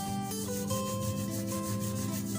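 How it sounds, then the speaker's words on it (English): Mud rubbed off a letter card during a phonics activity, a steady soft scraping rasp for about two seconds, close and continuous with faint background tones, no talking. "Now rub this and see what's the letter inside."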